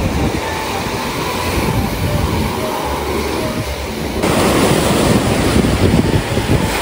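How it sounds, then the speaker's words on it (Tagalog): Ocean waves wash onto the seashore in strong wind, a continuous loud roar of surf and gusting buffeting that swells louder partway through. "ako po ay nandito na sa tabing dagat"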